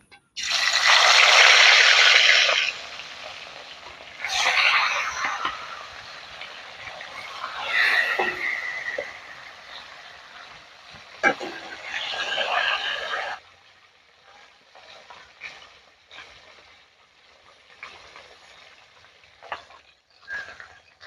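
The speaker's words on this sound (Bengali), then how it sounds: "এখন সর্ষের তেল দিয়ে মাছটাকে আমি ভালো করে ভেজে নিই" Whole fish frying in hot mustard oil in a wok, a loud hiss and crackle that swells in surges, then settles into quieter scattered sizzling and popping.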